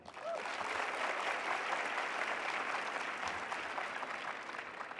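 A live audience at a BYU talk by Rabbi Dr. Ari Berman answers a question with a dense, even round of applause that fills the hall for the full five seconds.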